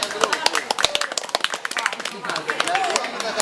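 A group claps during an outdoor athletics relay lesson, sharp distinct hand claps in a quick uneven rhythm close by, with voices mixed in.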